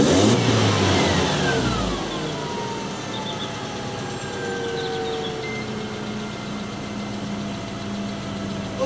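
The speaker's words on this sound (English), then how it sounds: "we're going to start the engine" Mercedes-Benz SLK 200 R171 engine starting, a brief loud crank and catch followed by a steady mid-pitched idle with a faint whine, close and alone.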